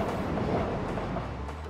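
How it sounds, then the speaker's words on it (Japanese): A train rumbles past in the pixel-art game Eastward, a loud, continuous clattering roll with rhythmic wheel clicks and low rumble, heard alone without voices. "電車だ。 聞こえるか。"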